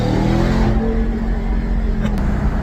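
A Ram TRX truck with a loud aftermarket exhaust revving, a deep, heavy rumbling drone close by that swells and holds, with a voice faintly under it.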